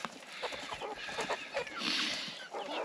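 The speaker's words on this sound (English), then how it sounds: "So I've got a couple olive egger hens in here." Olive egger hens clucking nearby in a henhouse, with a busy run of short, overlapping clucks and squawks.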